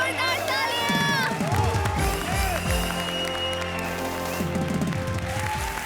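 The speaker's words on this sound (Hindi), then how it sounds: "हमारी चारों जोड़ियों के लिए जोरदार तालियां।" A studio audience at a comedy show applauds and cheers loudly and continuously for four comedy pairs, a dense crowd roar layered with music and booming stage effects.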